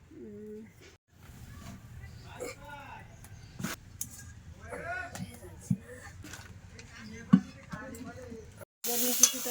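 Crab rubbed with salt and turmeric fries in oil in a wok over a damp clay stove. A soft, low sizzle runs beneath close, frequent talking, with a few sharp clinks.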